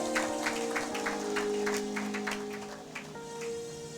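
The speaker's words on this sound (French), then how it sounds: "Acclamons pour la gloire de l'Éternel, notre Dieu, notre Seigneur." A church congregation applauding during a pastor's sermon: steady clapping with rhythmic beats under sustained organ or keyboard tones, moderately loud and close throughout.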